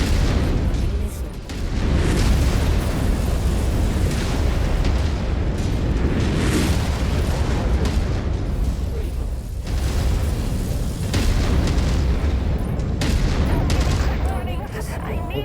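Missile impacts and explosions in the mech combat game Mechwarrior 5, loud rolling booms and bursts stacked over a constant low battle rumble, with brief dips between volleys and a voice talking faintly underneath.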